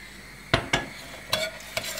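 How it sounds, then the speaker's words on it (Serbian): Sugar and water syrup in a pot over a lowered flame, with four sharp spoon knocks and scrapes against the pot spaced across the moment over a quiet background. "Smanjite da šećer ne bi zagorio."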